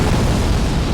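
Ether cannon blast from the mecha game Robot Alchemic Drive, a loud sustained explosive roar with heavy low rumble filling the whole second without a break.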